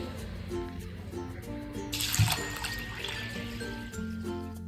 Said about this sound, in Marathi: आता याच्यामध्ये पाणी टाकून घेते